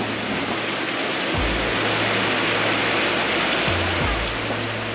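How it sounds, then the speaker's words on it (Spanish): Heavy rain pours down in Togo in a dense, constant roar, loud and close, with a low rumble dipping in and out underneath. "la lluvia no dio tregua y llegó con toda su fuerza"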